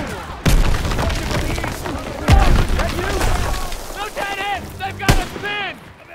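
Loud bursts of gunfire in Call of Duty: WWII with sharp booming shots scattered among ongoing talk and other action sounds.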